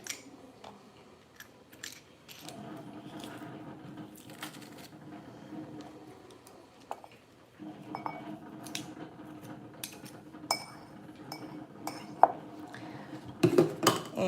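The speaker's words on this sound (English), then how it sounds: "we are gonna use the garlic press, of course, for the garlic" A garlic press works through garlic cloves in a home kitchen while langos is being made. Quiet metallic clicks and squeaks come in scattered bursts over a low background, with sharper clacks near the end.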